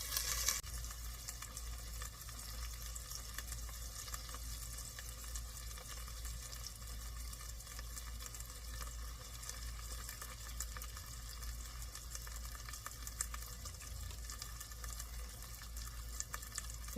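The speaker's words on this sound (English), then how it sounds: "The bread is toasting up beautifully." Bread for patty melts toasting in a hot pan, a steady soft sizzle and crackle running the whole time at low level, close and continuous with no talk.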